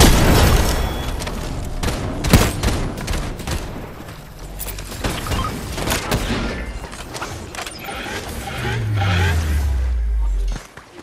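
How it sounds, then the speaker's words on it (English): Sharp gunshots and booms from a Fortnite match, including a heavy sniper-like crack early on, mixed with mechanical clatter and a voice talking over the action, ending in a low sweeping rumble. "That sounds like a sniper"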